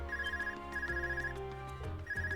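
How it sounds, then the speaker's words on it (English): An Arcus communication device rings in the Trails of Cold Steel video game, a repeating electronic tone in steady bursts over game background music with no talking. "Is that your Arcus ringing?"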